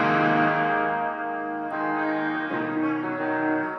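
Electric guitar played through a Burr op-amp overdrive pedal with no boost: a sustained, gritty, bright chord rings out, with the strings strummed again about halfway through, close and alone.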